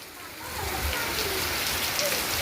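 Steady rain falls in Chichawali, a dense, even hiss of drops pattering on surfaces that holds for the whole stretch, close and fairly loud with no voices.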